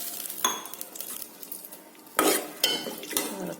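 A spoon stirs thick drumstick lentil sambar in a metal pot, scraping and knocking against the sides in several uneven strokes, close and clear.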